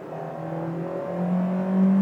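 A 2023 Citroën C3 Feel Pack automatic accelerates at full throttle from about 60 km/h, heard from inside the cabin as a rising engine drone that climbs steadily in pitch and grows louder, with no speech.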